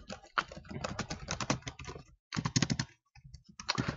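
Fast typing on a computer keyboard, with dense bursts of close key clicks broken by brief pauses.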